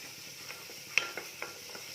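Whole spices such as dried chillies, cloves, cardamom and cinnamon crackle in hot oil in a pan, with a low sizzle broken by a few sharp pops and spoon clicks, close and quiet, without talk.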